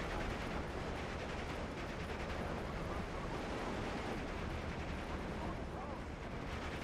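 Steady, dense rumble of incoming artillery fire in Steel Division 2, distant booms merging into continuous battlefield noise, fairly faint and unbroken.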